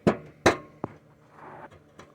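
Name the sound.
hammer tapping tacks into a tractor deck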